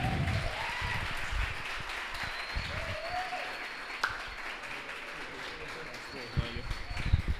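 A stand-up comedy audience claps in a scattered, fading round of applause, moderately distant, mixed with a voice speaking over it and occasional sharper claps near the end.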